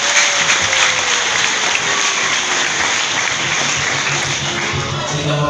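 An audience at a church gathering claps in sustained, dense applause, loud and close, holding steady throughout with no individual claps standing out.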